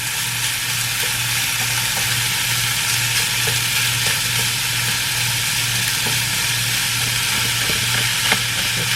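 Ground pork browning in a pan, a loud, steady close-up sizzle with faint scattered crackles and stirring sounds under a low hum, no talking.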